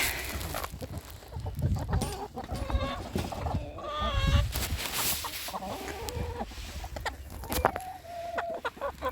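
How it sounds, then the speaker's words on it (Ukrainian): Faverolles and Brahma White Gold hens cluck and squawk repeatedly in a busy farmyard coop, several birds calling close by in irregular bursts over steady background noise. "Ось це курочка фавероль."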